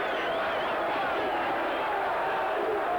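A large rugby test-match crowd at Ballymore stadium roars steadily as the All Blacks and Wallabies prepare, a continuous distant wash of cheering and noise with a commentator talking over it.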